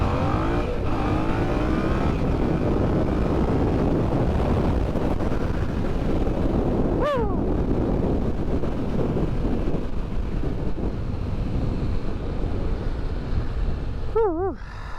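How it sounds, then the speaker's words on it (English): Yamaha XSR700 motorcycle accelerating hard from first gear, a loud continuous engine roar mixed with heavy wind buffeting, with a rising whine at a mid-point gear change and another near the end. "we'll try an acceleration from first gear here"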